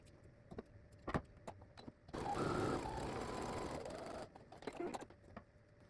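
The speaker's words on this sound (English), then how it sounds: "You're going to take this to your sewing machine and you're going to sew 1/4 inch away" A steady mechanical whirring hum runs for about two seconds, stopping and starting as a sewing machine stitches quilt block fabric, with softer clicks and handling noises around it.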